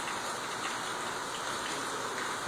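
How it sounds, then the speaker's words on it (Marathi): Steady, even hiss of rain falling, faint and constant with no pauses or voices. "पहा ना काय पाऊस आहे"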